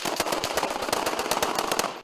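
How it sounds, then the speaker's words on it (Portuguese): Rapid bursts of gunfire crackle in quick succession during a police shootout with gang members in Complexo de Israel, sharp repeated shots with a distant, echoing quality and no pauses. "Foram mais de 30 minutos de intensa troca de tiros."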